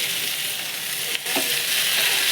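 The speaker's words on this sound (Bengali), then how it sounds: "আর একটু পেঁয়াজ দিয়ে ভালো করে এটাকে ভাজা ভাজা করব" Continuous bright sizzle of onions frying in a pan, with a brief stir or scrape partway through.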